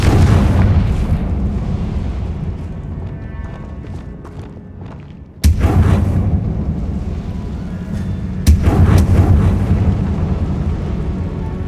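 Booming Confringo spell explosions in the video game Hogwarts Legacy, a sustained roaring rumble punctuated by two sharp, loud blasts a few seconds apart, with no talk.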